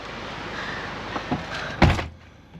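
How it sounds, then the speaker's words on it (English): A camper van door is shut in Portugal, with a couple of small knocks followed by one loud close thud that quickly dies away. "let me shut the door."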